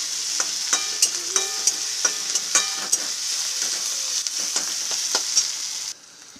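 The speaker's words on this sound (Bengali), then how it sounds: "লঙ্কা কুচি, আদা কুচি দিয়ে দিলাম, ভাজা ভাজা হয়ে যাবে" Chopped green chilli and ginger frying in hot oil, a steady bright sizzle with regular spatula scrapes and taps against the pan, close up, ending abruptly as the sizzle drops away.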